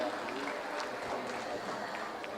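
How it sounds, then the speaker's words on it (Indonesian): Applause from a crowd at the 59th anniversary gathering of SMP Negeri 4, a junior high school in Banda Aceh: a steady, even wash of clapping that holds for the whole stretch. "beri tepuk tangan sekali lagi untuk kita semua Bapak dan Ibu"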